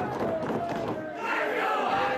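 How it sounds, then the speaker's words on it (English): Wrestling crowd at an independent Beyond Wrestling show roaring and cheering loudly throughout, with a commentator's voice audible under the noise. "Crowd completely behind Hot Sauce Tracy Williams here"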